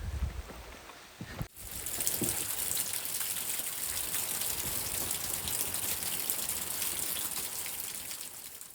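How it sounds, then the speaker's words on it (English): Steady rain falls on a mountain building site, a dense, constant hiss of drops close by that runs on without a break, with no voices. "It's raining."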